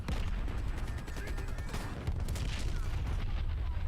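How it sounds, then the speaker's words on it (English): Dense gunfire and booming explosions from a first-person shooter video game, with a steady rattle of shots layered over low rumbling blasts throughout. "So many explosions"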